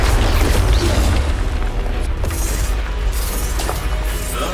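Expulso spell blast in Hogwarts Legacy, a loud dense booming explosion with a heavy low rumble that fills the whole stretch, sustained and close with no talk.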